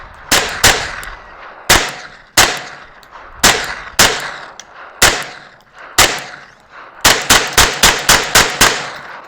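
Ruger PC Carbine rifle fired at a target on a range, loud sharp reports. Single shots at first, then a rapid string of about six quick shots near the end. No talking.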